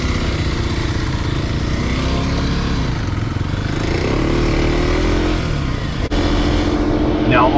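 A Kawasaki KLX 230 dirt bike engine drones loudly and steadily while riding, with slight throttle swells, rushing wind and faint voices mixed in.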